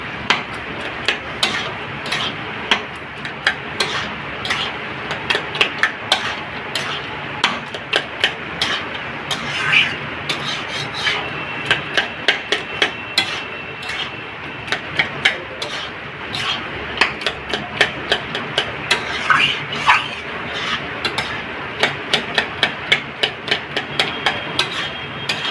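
A metal spatula beats bottle gourd and bori pieces in a cooking pan, giving a long run of steady, close clattering taps and scrapes against the metal.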